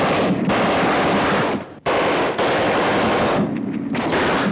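Japanese machine guns firing on US soldiers in a World War II battle, a loud continuous roar of automatic fire with a brief break midway, dense and close.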